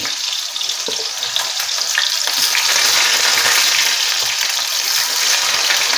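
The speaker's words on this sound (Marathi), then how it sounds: "हे टोमॅटो आता मी सोडून देते।" Halved tomatoes hit hot oil in a pan for an aloo gobhi dish, giving a loud, close, steady sizzle and crackle throughout.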